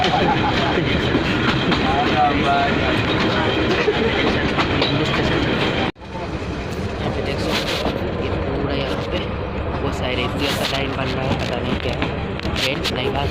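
Kenya Railways train running from Nairobi to Kisumu, with a loud, steady rumble and clatter of the coaches on the track that continues throughout. A brief dropout comes midway, and voices talk faintly underneath.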